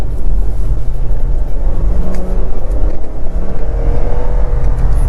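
A car engine drones loudly and continuously, its pitch shifting as it revs, with heavy low rumble throughout.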